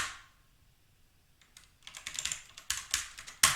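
Quick bursts of computer keyboard typing entering a Linux sudo command, close and clicky keystrokes in uneven clusters after a quiet start, ending on a sharper final key press.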